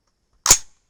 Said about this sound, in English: We'll shoot one more shot